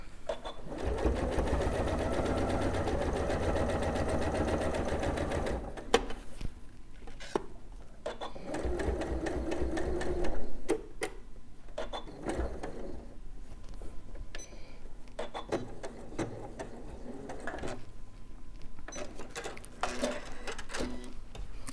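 A sewing machine stitches a quilt-as-you-go quilt in a steady mechanical run, then continues in shorter, faint bursts with pauses as the fabric is handled.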